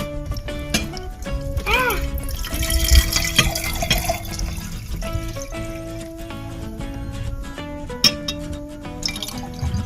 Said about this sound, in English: First, we put the egg in here, and then we pour the vinegar.